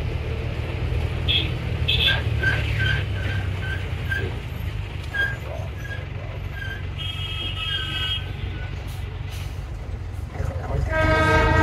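Darjeeling toy train on the Jalpaiguri–Darjeeling route, running alongside an NBSTC bus; a steady rumble of rolling wagons persists throughout, with repeated short horn or whistle toots in the first half and another blast near the end.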